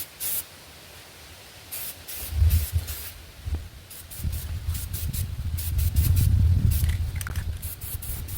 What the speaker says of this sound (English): That's why I'm using spray paint.